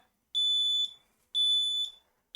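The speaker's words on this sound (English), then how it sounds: "Let's plug my beeper back in, might help." A small beeper buzzer wired to an Arduino sounds two clear, high-pitched electronic beeps, each about half a second long with a short gap between them, in an otherwise quiet room.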